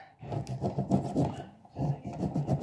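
Dried chaga mushroom is scraped and shaved into a fine powder, giving a steady close-up rasping and scratching in quick repeated strokes, with a brief pause midway before the rubbing resumes.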